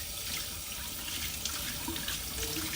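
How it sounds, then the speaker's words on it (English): Water runs steadily from a faucet while hands are rinsed under it, a soft, continuous splashing hiss that stays even throughout, with no voices. "Don't turn off the faucet until you dry your hands with paper towels."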